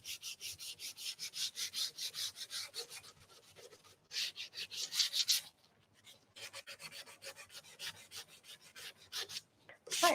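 Sandpaper of 220 grit rubs back and forth along the edge of a painted antique cabinet door, a series of rhythmic close raspy strokes with short pauses between bursts.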